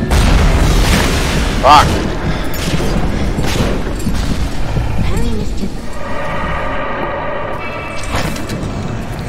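RPG rocket explosions in the Bioshock video game, heavy booming blasts and rumbling debris amid dense game noise, with someone talking and swearing over them.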